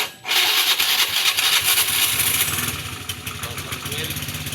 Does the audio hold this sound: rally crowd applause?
no